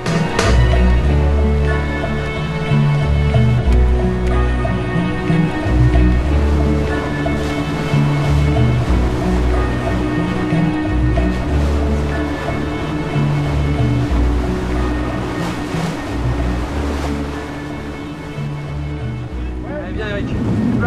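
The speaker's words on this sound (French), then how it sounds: "Embarquement à bord de Géant, le trimaran de Michel Desjoyaux." The racing trimaran Géant slices through waves off Douarnenez in Brittany during a Grand Prix, a loud, continuous rush of hull spray and surf with steady wind noise throughout.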